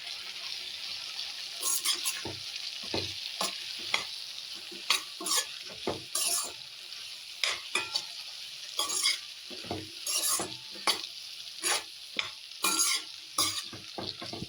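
Spices being stirred into spring onion frying in a pan, a constant sizzle under frequent scraping strokes of a spoon, close and clear, with no voices.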